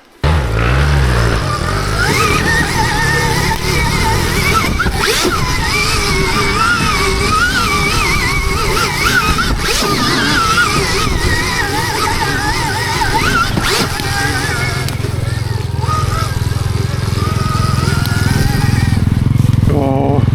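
An enduro motorcycle rides off-road along a trail down into a ravine. Its engine note climbs and falls continuously and loudly, with gear changes and rough terrain noise, then settles into a deeper, steadier drone near the end.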